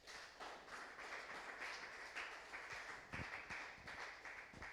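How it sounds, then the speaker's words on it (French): Applause from a church congregation at a Bible study evening, a steady, moderately distant patter of many hands clapping throughout, with a few sharper individual claps standing out near the end. "Applaudissons la parole du Seigneur."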